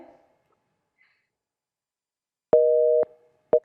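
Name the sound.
telephone busy signal after hang-up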